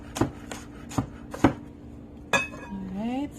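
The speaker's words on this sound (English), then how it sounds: "So I have a half of a large onion, cutting that up fairly small." Half of a large onion being chopped small on a board, four sharp knife strikes at an uneven pace followed by a clatter and a brief squeak, close and clear.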